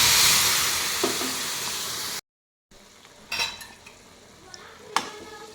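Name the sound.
milk poured into roasted semolina and stirred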